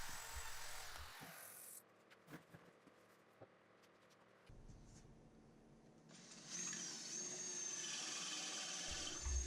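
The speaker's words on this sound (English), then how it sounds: "here I'm just extending that hole deep with a long 3/8 bit" A long 3/8 bit in a power drill bores deep into a workbench leg, whining in steady bursts with pauses between them. The sound is close and moderately quiet, with no talking.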